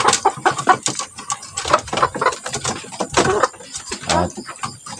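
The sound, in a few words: chickens clucking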